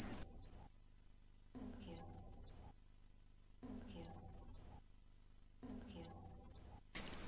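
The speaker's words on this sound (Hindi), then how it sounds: "जब थर्मामीटर तापमान दर्ज कर रहा होगा तो आपको प्रत्येक 4 सेकंड में एक बीप की आवाज" A digital thermometer measuring an infant's temperature gives four short high beeps spaced about two seconds apart, clear and close against near silence.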